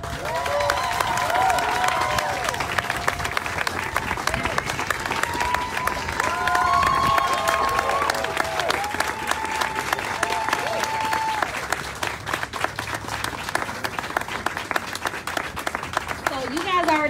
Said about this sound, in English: let's give a round of applause to our Michigan delegation for being here with Senator Sanders